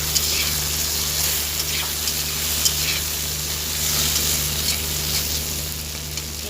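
Fish being fried and stirred in a pan, a steady dense sizzle with scraping stir strokes running throughout, fairly close and loud, with no talk.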